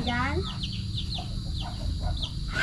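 Chickens and chicks cluck and cheep close by, with repeated short chirps over a rumbling farmyard background and people talking.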